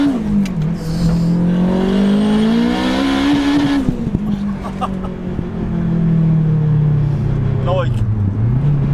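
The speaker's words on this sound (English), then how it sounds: "3000 RPM is normally where the turbo kind of kicks in. So now we're at 4000 RPM." Turbocharged Honda Integra DC5 with about 430 bhp accelerating hard past 4000 RPM, a loud, steady rising engine drone from inside the car, with a voice talking over it.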